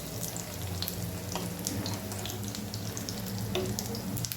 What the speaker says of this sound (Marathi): उलट पालट करून दोन्ही बाजूने लालसर तळून घेऊया